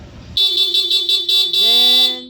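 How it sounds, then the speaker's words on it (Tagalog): A motorcycle's stock electric horn blares close and loud, sounding in a series of quick rhythmic bursts before one sustained blast, a bright buzzy tone. "stock horn mo, ha?"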